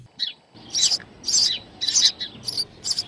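A skylark chirps in a story sound effect: bright, high twittering bursts, repeated about half a dozen times in a quick, uneven rhythm, clear and close.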